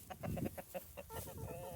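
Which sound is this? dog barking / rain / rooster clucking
rooster clucking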